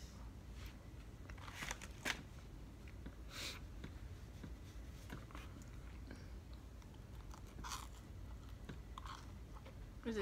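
Crunchy toasted bread being bitten and chewed close up, with sharp crunches at irregular intervals over a low background murmur.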